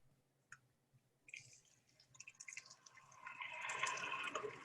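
Food splashing into hot oil in a home kitchen, starting with a few faint drips and splats, then building to a steady, loud hiss and crackle of frying that fills the last couple of seconds.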